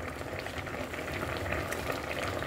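Pot of coconut milk stew boiling steadily, a continuous bubbling and simmering wash with soft popping, close and moderately loud, no talk.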